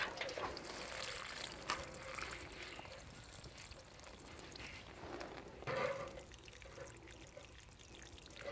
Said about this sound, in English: And then I can water those.